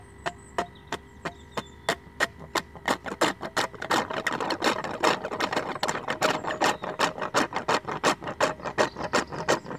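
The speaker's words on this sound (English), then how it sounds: "vacuum pump on the discharge" A vacuum pump on a rotary compressor's discharge sucking in oil, a rapid mechanical pumping chatter, steady rhythmic pulses repeating quickly over a low hum, close and moderately loud throughout.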